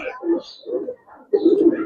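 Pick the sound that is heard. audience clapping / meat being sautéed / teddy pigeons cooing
teddy pigeons cooing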